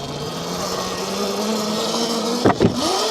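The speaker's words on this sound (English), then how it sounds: "That time the front wheel bottomed out on the fender here." Leonx X1 Max electric scooter riding uphill, its front wheel bottoming out against the fender in two quick knocks near the end, over a steady motor hum and wind.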